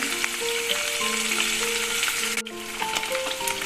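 Paneer frying in a kadai pan, a dense continuous sizzle at close range, steady and fairly loud, with faint tonal ringing underneath.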